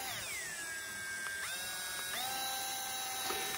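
A rechargeable 3.7V mini pen sander and engraver spins with a thin, high whine that steps down in pitch a few times as it runs, steady and fairly quiet.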